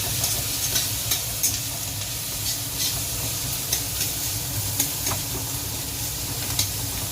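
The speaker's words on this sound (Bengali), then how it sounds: "এটা সুন্দরভাবে ভাজতে হবে।" Chopped onion and green chilli fry in oil with a continuous loud hiss and sizzle, crackling bursts popping on top, while a spatula stirs now and then; no voices.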